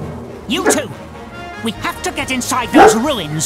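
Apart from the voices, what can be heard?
dog barking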